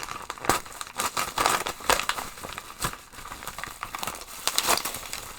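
Plastic packaging crinkles and rustles in bursts as a football shirt is unwrapped, close and fairly quiet, with irregular crackling handling sounds and no talk.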